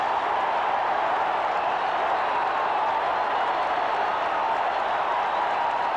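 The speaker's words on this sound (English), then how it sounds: "Like a playoff game, the way this crowd has risen up." Stadium crowd at a 1983 Raiders-Bills football game in Buffalo roars in a steady, dense wall of cheering and clapping that holds loud and unbroken throughout.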